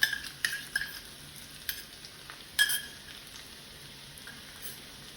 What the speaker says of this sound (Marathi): कढल्यामध्ये थोडंसं तूप घेतोय आणि त्याच्यामध्ये लसूण आणि लाल सुक्या मिरचीची फोडणी करून घेतोय